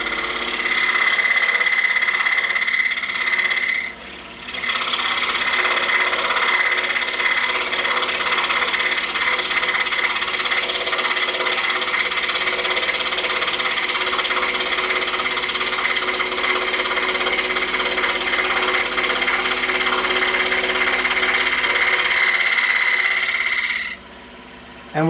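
A scroll saw cuts a sharp corner in a wooden Valentine's heart frame, its motor humming steadily and loudly with a continuous buzzing drone that drops out briefly near the start and stops just before the end.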